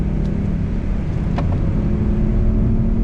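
A GT3 race car roars past on the circuit at Spa, heard from inside a BMW M240 as a loud, steady engine rumble with a short rising whine.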